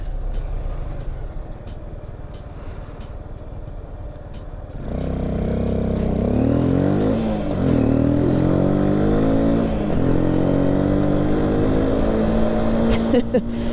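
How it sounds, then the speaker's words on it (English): A 125cc motorcycle being ridden. Quieter road noise gives way to the engine pulling hard, its pitch rising and falling through gear changes, loud and steady with wind rush. "This bike really does not go all that fast. This is a 125cc, by the way."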